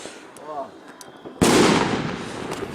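On New Year's Eve at midnight, a single heavy firecracker goes off with a sudden sharp blast that rolls into a sustained crackling decay, preceded by people chatting nearby.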